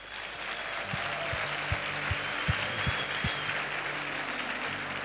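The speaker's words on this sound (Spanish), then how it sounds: "Yo quiero que le demos un aplauso al Señor" A church congregation applauds the Lord in a sustained burst of clapping that fills the room for several seconds, with a few louder claps standing out and a low hum underneath.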